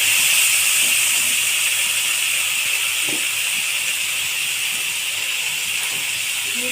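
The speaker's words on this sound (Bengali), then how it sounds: "শুকনো লঙ্কা কাঁচামরিচ আদা রসুন পেস্ট তেজপাতা দিয়ে ভালো করে নেড়ে তেলের মশলাটা আমি কষিয়ে" Dried red chilies, green chilies, ginger-garlic paste and bay leaves frying in hot oil for a fish curry give a steady, loud, hissing sizzle that runs unbroken throughout.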